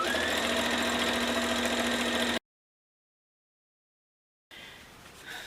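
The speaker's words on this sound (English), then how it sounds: "So I'm just going to sew all the way back up to the top." Sewing machine stitching a quilted stocking, a steady close mechanical whir lasting a couple of seconds, then silence, then a quieter, briefer run of motor hum.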